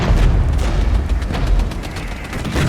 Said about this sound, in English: We'll have a second artillery barrage on these guys